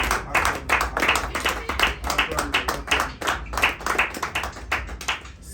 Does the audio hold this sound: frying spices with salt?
no